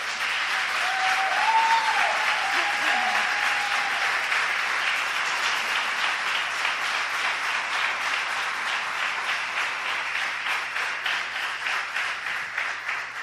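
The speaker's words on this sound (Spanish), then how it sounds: "¿Puede dar un aplauso al Señor?" A church congregation gives sustained applause to the Lord, a dense, even wash of clapping that holds steady for the full stretch. Toward the end it thins into more distinct individual claps. A brief sung or spoken tone rises early on.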